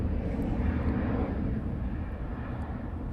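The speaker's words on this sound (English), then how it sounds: "So I have one approach and one taxiing up." An aircraft approaches or taxis at East Midlands Airport at night, a broad steady engine roar heard from a distance that eases slightly toward the end.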